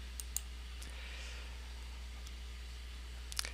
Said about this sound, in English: So first thing I'm going to do is just click on the repeat patterns icon.